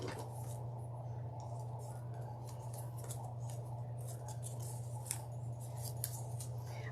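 Scissors snip through deco mesh wreath pieces, cutting them in half for a scarecrow swag, with light crisp cuts repeating over a steady low background hum and no talking.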